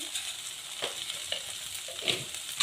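Masala of cumin, coriander and red chilli powder fries in a pan, giving a steady fine sizzle and crackle with soft intermittent scrapes of stirring, close and fairly quiet, with no voices.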